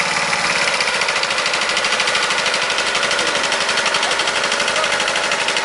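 A rebuilt Briggs Quantum small engine runs loud and close with a rapid, even pulsing drone, its speed shifting slightly as it keeps running.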